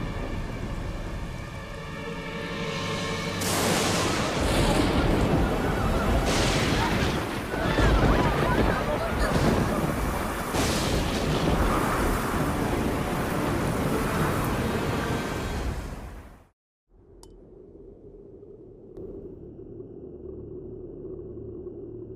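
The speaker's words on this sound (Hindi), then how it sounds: "ये तूफान तब तक थमना नहीं चाहिए जब तक वृंदावन पूरी तरह पानी में डूब न जाए" Cartoon storm effect for Indra's flood over Vrindavan: a loud, roaring wash of wind and rushing water with booming swells that runs steadily, then drops out suddenly and gives way to a quieter, low background.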